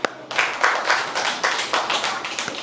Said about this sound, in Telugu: యా, కూర్చో. క్లాప్స్.